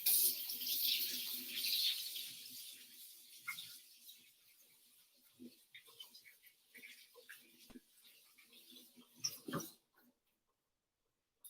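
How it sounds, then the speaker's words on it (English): Water from a kitchen tap rushes over hands being rinsed, loudest at the start and then thinning into scattered drips and small clatters before cutting to silence near the end. "Let's give my hands a rinse."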